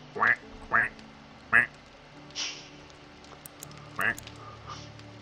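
A voice imitates a duck, giving a handful of short nasal quacks at a steady walking pace, close and loud, with game sounds faintly behind.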